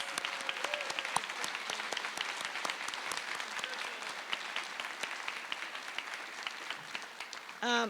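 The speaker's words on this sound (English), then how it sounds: "So if Taylor will come out here so we can just give her a nice round of applause" An audience at a high school awards night gives steady, sustained applause for the school counselor. The clapping is dense and even, heard from within the crowd, and a brief shout rises near the end.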